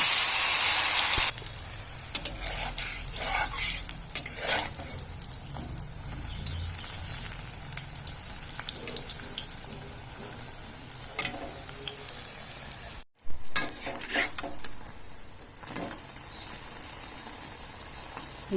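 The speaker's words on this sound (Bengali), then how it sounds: "তেল গরম হয়ে গেছে, একটা একটা করে দিয়ে দিচ্ছি।" Chickpea and lentil fritters dropped one by one into hot oil, sizzling and crackling steadily in a pan, with a loud hiss at the start, then softer bubbling broken by occasional louder spits and a brief pause.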